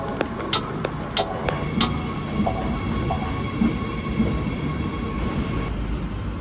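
A KRL commuter train rumbles along steadily between Tugu and Maguwo stations in Yogyakarta, with a low continuous drone and scattered sharp clicks and squeals from the wheels and track.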